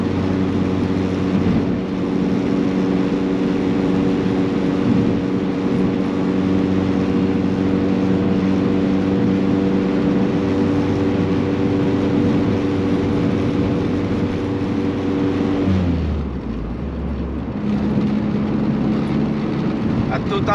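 A car's exhaust drones steadily in fourth gear at 3000 RPM from inside the cabin, a constant low hum that dips briefly near the end, with someone talking over it.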